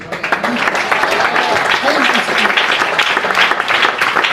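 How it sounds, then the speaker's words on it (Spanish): Church congregation applauding for the Lord in a loud, continuous roar of clapping, with voices calling out underneath and some talk mixed through the sustained applause. "démosle un aplauso al Señor"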